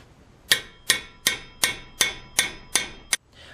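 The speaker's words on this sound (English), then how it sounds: "a couple hits of the hammer" A hammer strikes a metal jam nut on a car's outer tie rod end eight times in a steady rhythm, each blow a sharp ringing clang, close and loud, with brief silence between hits.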